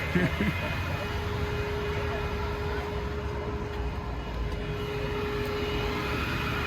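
A Porsche 993 pulls away with a steady low engine drone that holds evenly at a moderate distance, along with broad background noise from an outdoor car gathering.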